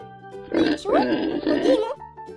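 Several low, snuffling pig grunts in quick bursts, close and fairly loud, with brief pauses between them.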